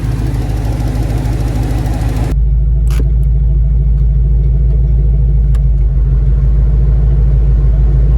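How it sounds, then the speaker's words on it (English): A rusty Ford F-250 pickup truck engine idles loudly and steadily up close after sitting for years, with a faint rhythmic ticking from the valves running beneath the rumble. "I hear a little valve tick, actually. A little bit of valve noise."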